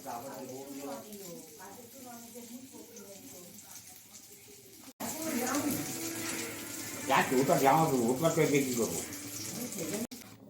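Fish frying in a pan during home cooking of a fenugreek leaf dish, a steady crackling sizzle that grows louder in the second half, with someone talking over it at first.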